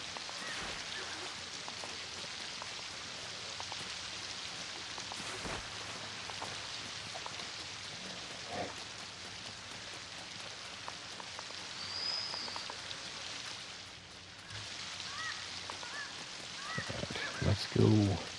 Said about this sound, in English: It's always raining on the shore, isn't it?